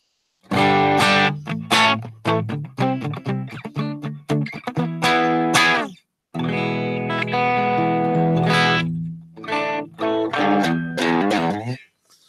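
Electric guitar played through the Line 6 HX Stomp's Interstate Z distortion effect, heavy driven chords and short stabs in bursts, one clear break midway, then more ringing chords and choppy hits.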